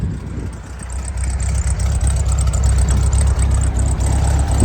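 The engine of a 1973 VW Karmann Ghia with an auto stick transmission fires up and settles into a steady, rumbling idle, heard close from the open engine compartment with no talking.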